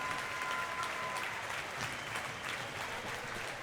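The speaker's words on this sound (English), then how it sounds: "I would ask for one more round of applause for our Olympian silver medalist, Anna Peplowski." A crowd applauds an Olympic silver medalist at a welcome-home event, the steady dense clapping holding at an even level throughout with no voices standing out.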